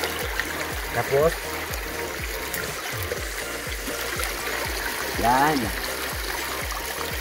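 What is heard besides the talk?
vegetables being washed in flowing river water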